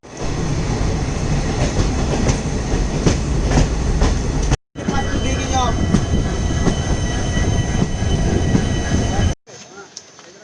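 The Vasco da Gama–Tirupati/Hyderabad express runs on Indian rails near Dudhsagar and Castle Rock, with a loud continuous rumble, rhythmic wheel clatter and some squeals, broken by two brief cut-outs.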